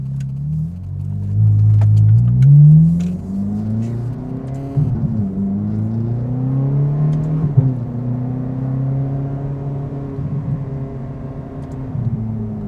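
A Ferrari F430 engine revs loudly up and down while driving, rising to a high whine early, then settling into a throaty, fluctuating drone.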